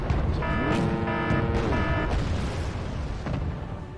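Tank cannon fire and anti-tank guided missile blasts in the Wargame: Red Dragon strategy game, a dense, loud rumble of booms and bursts layered with tonal whining lines, fading slightly toward the end, with no talk.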